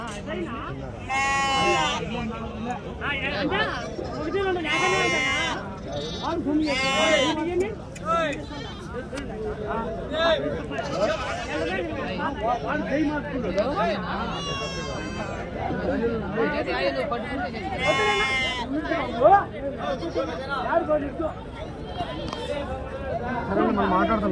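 Goats and kids bleat repeatedly at a busy outdoor goat market in India, near and far calls overlapping under steady crowd chatter and nearby voices talking throughout.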